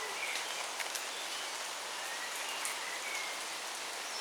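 Steady rain falls outdoors over a garden of potted Cymbidium orchids, a continuous close hiss of drops on surfaces with faint rustling, no voices.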